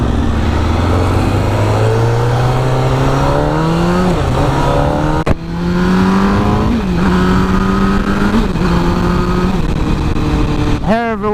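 2007 MV Agusta F4 1000R motorcycle engine heard while riding, loud and close, rising through the gears in repeated climbing pulls with quick shifts, then a sharp rev blip near the end.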